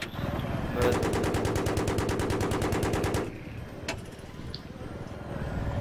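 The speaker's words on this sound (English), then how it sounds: "Why are they shooting?" Rapid automatic gunfire from Battlefield 3 gameplay, a loud sustained burst of evenly spaced shots lasting about two and a half seconds, followed by a single sharp shot and quieter rumbling game ambience.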